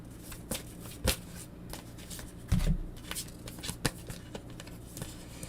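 Tarot cards are shuffled by hand during a live reading. Soft papery riffles and taps come in short bursts, quiet and close, with a couple of louder shuffles and no talking.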